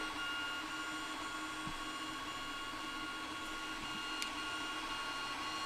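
A 3D printer printing a display cover for a Lectric XP e-bike makes a steady, faint mechanical whir with a continuous hum and occasional small clicks, heard alone and close.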